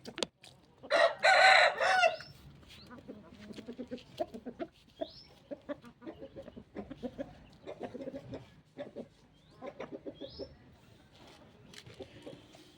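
An Aseel rooster crows loudly once near the start, followed by a run of Aseel chickens clucking and pecking at green feed nearby in short, irregular bursts.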